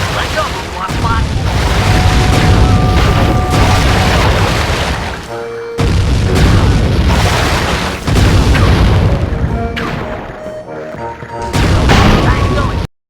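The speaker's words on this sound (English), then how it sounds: "Okay, boys, Murray rows and Sly mans the cannon" Booming cannon fire from a boat in the video game Sly 3, a series of loud heavy blasts with rumbling tails, interleaved with game music and effects.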